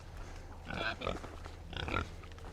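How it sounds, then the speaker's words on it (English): Pigs on a farm grunt and snort close by in two short bursts over a low background rumble, fairly quiet overall. "Greedy pigs."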